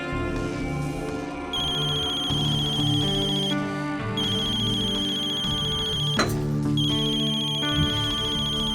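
A phone's ringtone rings steadily in a looping electronic melody, loud and close, with background music beneath it and no voices.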